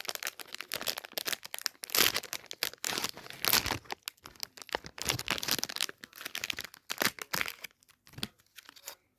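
Plastic wrapper of a Bebeto jelly candy pack torn open up close, loud crinkling and ripping bursts in an irregular rhythm throughout, with no talking.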